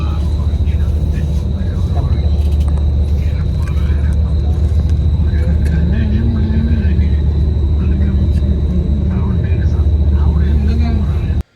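A semi-sleeper bus on the road from Riyadh to Abha fills its cabin with a loud, continuous low engine rumble and road drone, steady throughout before cutting off abruptly at the end.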